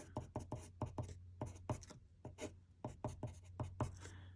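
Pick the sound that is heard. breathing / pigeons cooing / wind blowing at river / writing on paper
writing on paper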